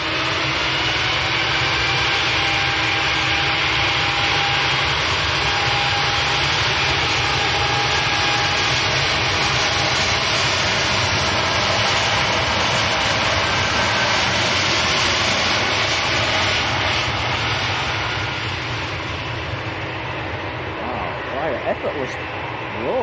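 KLM jet airliner taking off from Manchester Airport on its way to Amsterdam, a loud steady engine roar that fills the scene and builds slowly while commentary runs over it.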